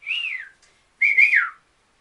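A two-part wolf whistle, loud and close: a short rising-falling note, a pause, then a longer swooping note that drops at the end.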